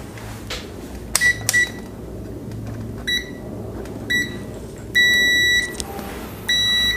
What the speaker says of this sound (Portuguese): Esse multímetro ele tem o bip e a indicação visual.